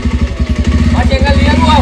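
A motorcycle engine close by, putting out a fast, even throbbing pulse that holds steady throughout the short stretch, with a voice speaking over it toward the end.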